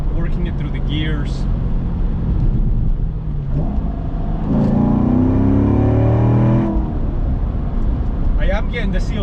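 A manual car's engine revs up through the gears, rising in pitch with each pull and dropping at the shifts, loud and close, while people talk over it in places.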